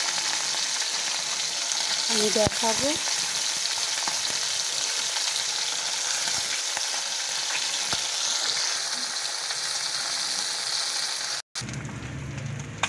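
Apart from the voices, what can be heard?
small fish frying in a pan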